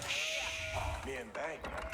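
Sheep bleat in a short, wavering cry in Age of Empires IV over a busy game background, with a voice speaking faintly underneath.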